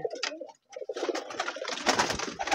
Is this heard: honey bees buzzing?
no